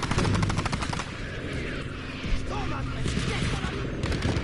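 Sustained automatic rifle fire in the World War II shooter Battlefield V, rapid bursts of gunshots chattering loudly through a busy battlefield with more distant shots and impacts behind.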